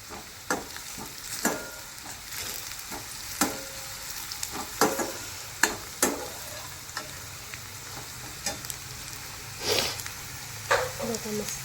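Red onion frying in a pan for Maharashtrian eggplant bharit, a steady sizzle broken by repeated sharp scrapes and clacks of stirring, close and moderately loud, with a voice talking at times.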